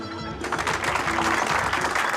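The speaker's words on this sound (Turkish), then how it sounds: "Güzel alkışlarınız için teşekkür ediyorum." Theatre audience applauding after a comedy stage act, a dense burst of clapping that swells in and holds steady, loud and close.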